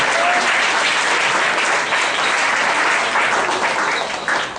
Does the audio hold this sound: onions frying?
no